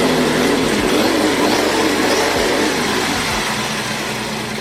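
Simulated engine note from a throttle-variable speaker on a Redcat Racing Camo X4 RC truck with a smoke unit, a loud, steady motor drone that holds a low rumble throughout with slight swells.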